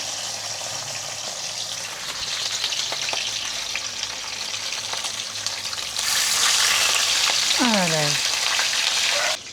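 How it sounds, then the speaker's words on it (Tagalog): Beef fat frying in a hot pan, a steady close sizzle that swells louder partway through, with a brief exclamation from a voice over it. "Prito na po tayo, mainit na si kawali."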